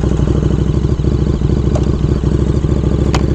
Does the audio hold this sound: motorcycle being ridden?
yes